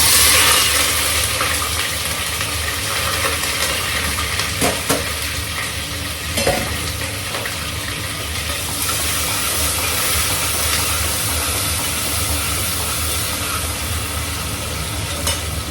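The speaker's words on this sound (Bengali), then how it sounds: "পেঁয়াজ কাঁচা লঙ্কাটা ভাজা হোক" Sliced onion and green chilli frying in a pan over panch phoron spices, a loud continuous sizzle with occasional stirring knocks and scrapes, steady from start to finish.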